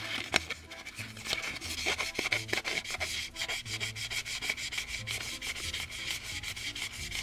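Sandpaper rubbing over the plastic body of a scale model car to dull its molded sheen, a steady close scratchy rasp with short repeated strokes running continuously, no voices.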